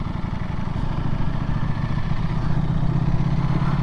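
Close-up of a 2025 Ducati Panigale V4 motorcycle idling, a steady throbbing engine pulse with a clattery mechanical texture, moderately loud and continuous, with no talking.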